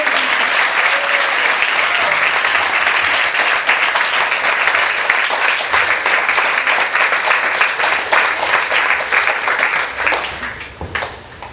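An audience at a Veda Yoga Center gathering gives a sustained round of loud applause for Radhanath Swami, thick continuous clapping that holds steady before tapering off near the end.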